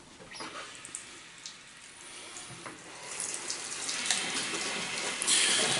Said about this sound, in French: On va rincer notre brosse.